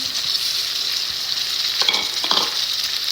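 Tomato slices hit onions, green chili and ginger already frying for baingan bharta, giving a bright continuous sizzle with two louder spitting surges near the end, and no voices.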